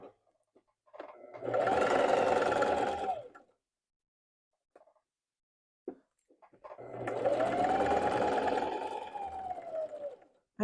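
Sewing machine stitching a denim maxi skirt made from upcycled jeans, two sustained runs of about two seconds and four seconds separated by a quiet pause with small handling clicks, close and steady.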